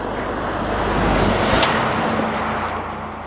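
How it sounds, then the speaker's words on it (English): Huge truck passing close by on the Georgian Military Highway, a loud rumbling roar that builds and peaks around the middle before fading into lingering road noise. "Huge truck just passed me."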